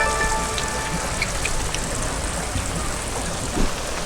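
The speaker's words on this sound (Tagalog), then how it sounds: "Ayan na ang ulan. Walang yan naman. Tago muna ako. Ang lakas ng ulan." Heavy rain pours on a mountain, a dense, steady hiss of drops striking surfaces, with a faint voice briefly audible beneath it.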